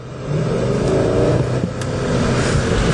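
A 2021 Mercedes-Benz S-Class engine under light throttle, a steady, subdued hum and whir rising gently over three seconds, heard from inside the cabin with no talking.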